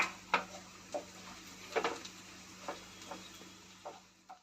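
Onions frying in oil in a pan while cooking jackfruit biryani: a steady soft sizzle with occasional clinks and scrapes of a utensil against the pan, close and moderately loud, with no talking.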